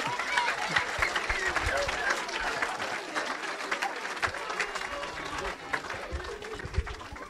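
A church congregation applauding steadily at an evangelical service in Evry, France, with dense sustained clapping and crowd noise filling the room throughout.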